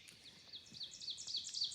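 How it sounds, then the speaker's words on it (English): Small birds chirp and tweet in a forest on an Appalachian Trail morning, with quick repeated high calls over a quiet, faintly hissing background and no voices. "Gee, the pretty birds."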